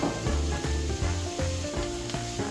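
Meatballs cook in a pan with pomegranate molasses sauce and tomato paste for a Turkish dish, giving a loud continuous close sizzle with soft bubbling pops and a few stirring scrapes, no voices.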